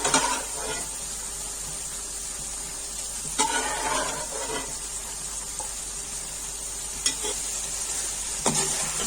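Chickpeas fry in oil in a pot for degi chana pulao, a steady soft sizzle broken by several sharp scrapes and clatters of a spoon stirring, close by and without talk.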